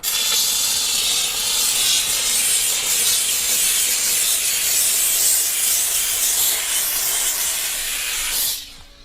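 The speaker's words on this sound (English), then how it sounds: "And then I can steam it." A steam cleaner hisses loudly and steadily on car leather for several seconds up close, then cuts off abruptly near the end.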